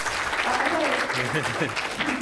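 Round of applause from an audience at a university talk on virtual reality in higher education, continuous and fairly loud, with voices mixed in underneath.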